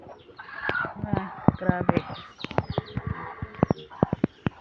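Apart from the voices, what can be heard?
farm ducks calling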